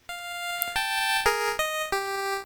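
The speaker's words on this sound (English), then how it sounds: "So when I'm playing here this note in the pulse channel," Bright square-wave NES pulse-channel notes, a sequence of about six sustained buzzy tones stepping between pitches, each with sharp attack, loud and clean with no talking.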